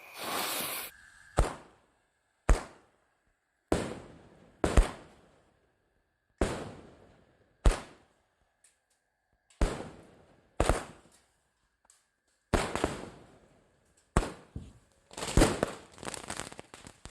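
A 25-shot roman candle firing in the open: about a dozen sharp, loud pops spaced roughly a second or so apart, each with a short crackling tail, set off before dawn for sahur.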